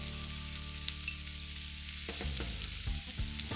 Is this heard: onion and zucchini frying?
yes